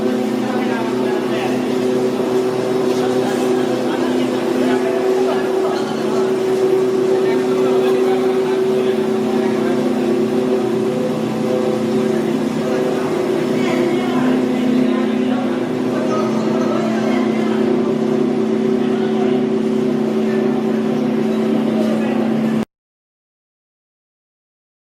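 A 6YL 125 oil press machine running steadily, a loud continuous mechanical drone with a strong low hum and dense grinding noise that holds unchanged for over twenty seconds before cutting off abruptly.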